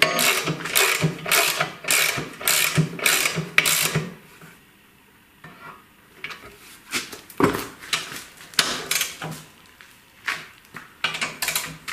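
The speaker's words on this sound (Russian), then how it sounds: "Финальная затяжка всех болтов." A ratchet wrench clicks in quick repeated bursts as bolts on a Miele washing machine drum are given their final tightening during a bearing replacement, with a short pause midway before the close metallic ratcheting resumes, no talk.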